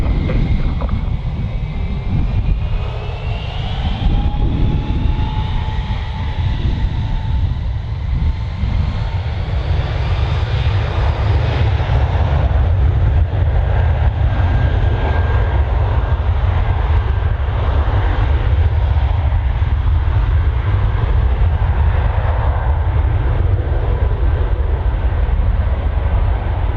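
Aircraft taking off at Birmingham Airport, a loud continuous engine roar with low rumble and wind buffeting, held steady and close for nearly half a minute.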